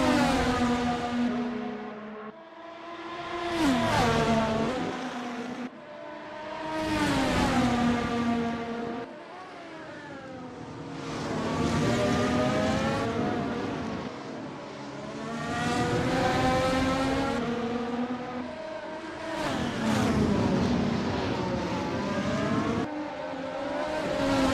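Race cars in a sim racing game at Interlagos roar past one after another, engines rising and falling through gear changes in repeated waves of loud acceleration.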